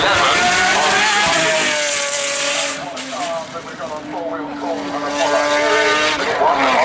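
A Pagani Zonda Revolución supercar with a 6-litre engine roars up the Goodwood Festival of Speed hillclimb, its loud, high-revving note rising and shifting through gears close by, while a commentator talks over it.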